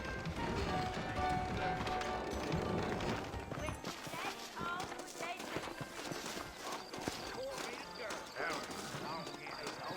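Horse hooves clop steadily beneath dense background music in Red Dead Redemption, the rhythmic hoofbeats mixed in with other game sounds at a moderate level.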